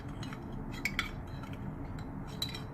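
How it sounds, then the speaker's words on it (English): A small spoon stirring liquid in a neti pot, with light metallic clinks and taps against the pot over a low steady background, close and fairly quiet, no talking. "you get yourself a nice small spoon. And what you do is just kind of get some stirring action in there."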